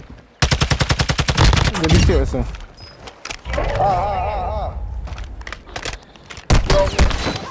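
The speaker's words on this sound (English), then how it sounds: "Where are you shooting from?" Rapid automatic gunfire in Call of Duty: Modern Warfare II, loud bursts of fast repeated shots opening and closing the stretch, with someone talking and game sounds in between.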